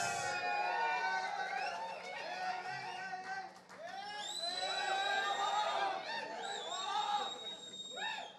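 Audience at a film team's meet-and-greet for actor Allari Naresh cheers and shouts in a loud, sustained crowd roar with whistles and excited voices, swelling and fading over several seconds.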